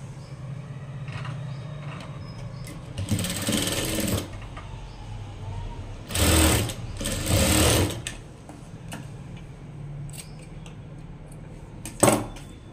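Sewing machine stitching a square of cloth to finish a tassel hanging for a maggam blouse, running in three distinct bursts of whirring, each one to two seconds long, close and moderately loud, with no talking.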